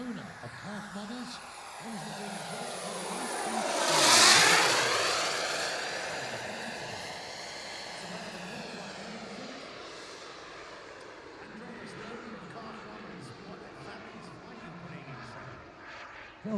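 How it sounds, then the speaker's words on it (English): A CARF-Models MiG-17 radio-controlled model jet flies at the Weston Park airshow, its turbine whine swelling loudly as it passes close around four seconds, then fading into a distant rushing drone, with a commentator talking over it. "The prototype MiG-17 flown by the owner of CARF-Models."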